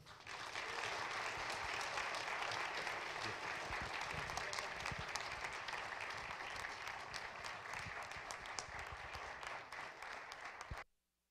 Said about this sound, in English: So I thought an appropriate way to kick off this town meeting was to recognize and applaud Rick and our colleagues.